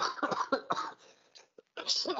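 A few short, rough coughs and throat-clearing bursts come close together, with brief pauses between them, fairly quiet and close.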